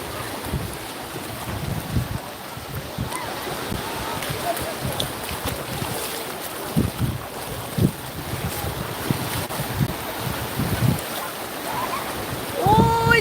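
Waves wash ashore at Lido beach near Venice, Italy, with heavy wind buffeting the microphone, and faint voices and brief cries in the background.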